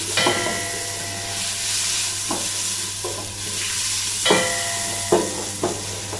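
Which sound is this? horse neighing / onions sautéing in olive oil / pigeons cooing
onions sautéing in olive oil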